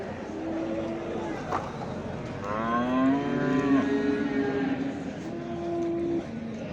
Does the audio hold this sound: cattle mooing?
yes